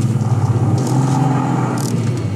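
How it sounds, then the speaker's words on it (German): A Toyota Supra MK4 with a triple-disc clutch, its gearbox rattling over a steady low engine rumble at idle, close and continuous with no talk. "weil mit der 3-Scheiben fängt natürlich das ganze Getriebe an zu rasseln"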